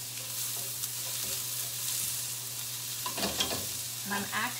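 Chopped squash stirred in a frying pan, a faint steady sizzle with soft scraping and clattering strokes growing busier near the end, over a low hum.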